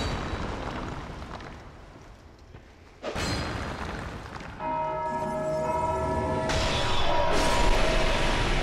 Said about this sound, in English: Why is this dude ringing a bell?